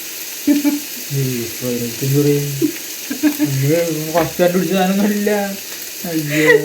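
Perumbavoor-style beef fry cooking in a pan without chilli powder: a continuous frying hiss runs underneath while a person talks loudly and nearly continuously over it.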